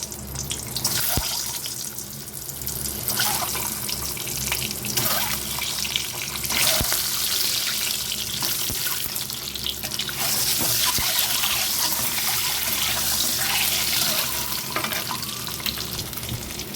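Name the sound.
eggs frying in oil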